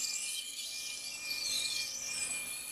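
A utility knife blade is drawn across a sharpening stone in a steady, continuous scrape, a bright rasping grind that holds close and even throughout with no voices.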